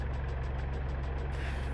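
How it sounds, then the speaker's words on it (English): OH-58 Kiowa Warrior helicopter engine starting in the DCS flight simulator, a steady low mechanical hum with a faint pulsing whine above it, continuous and fairly quiet with no voices. "Now let's start the engine. Press and hold the starter switch."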